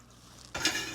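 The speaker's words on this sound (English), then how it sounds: "Now we're going to add a 1/2 cup of water." Half a cup of water is poured into a pot of dry ingredients for mustard pickles. After a quiet start there is a sudden, close splash that becomes a brief, steady pour.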